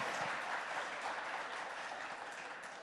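A steady wash of audience applause at a TV9 Satta Sammelan conference event, sustained clapping from a crowd, moderately distant and even throughout.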